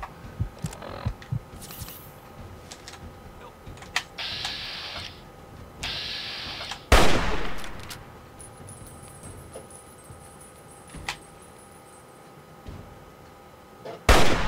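Gunfire in the Fallout 3 video game: a few sharp, loud cracks scattered over several seconds, one heavy blast standing out, with mechanical clicks and clatter between shots, no talking.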